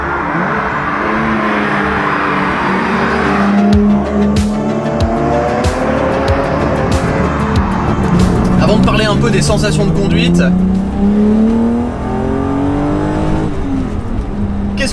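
A BMW M5 E28 saloon driven hard through a bend, engine revving loudly up and down with brief tire noise, heard close from the cabin while someone speaks over it.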